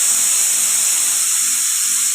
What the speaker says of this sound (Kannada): ಒಂದು 4ರಿಂದ 5 ವಿಸಲ್ ಕುಕ್ಕರ್ ಕೂಗಿಸಿ.